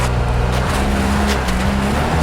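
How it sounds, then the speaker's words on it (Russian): Audi car driving off-road with all electronic aids on in D mode, a steady loud engine drone with low harmonic hum continuing throughout, close and without speech. "Audi едет с включенной полностью электроникой, просто в D-режиме."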